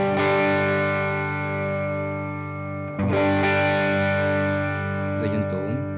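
Electric guitar run through a green Tube Screamer-style overdrive on a Boss GP-50 multi-effects unit, with lowered gain, sustaining steady distorted chords with a brief break near the middle and a few picked notes at the end.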